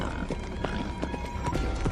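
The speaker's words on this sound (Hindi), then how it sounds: "राजा भी अपने घोड़े को तेजी से उसके पीछे दौड़ाने लगा।" Quick, continuous clip-clop of a horse's hooves at full gallop in a Hindi cartoon story, dense and fairly loud throughout, with no voices.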